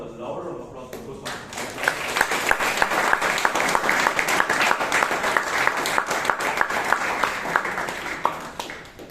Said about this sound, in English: Can we all give a louder applause for those